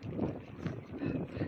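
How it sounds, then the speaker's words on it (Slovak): Outdoors, gusty wind buffets the microphone in uneven low rushes, a rough roar that swells and dips over a short moment with no clear voice. "už tu dosť fúka"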